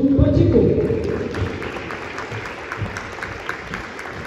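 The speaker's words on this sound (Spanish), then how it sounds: "un fuerte aplauso para Ernesto Jesús Pacheco." Audience applause at a tournament award ceremony, loud clapping at the start that fades into a softer, steady patter under ongoing talk.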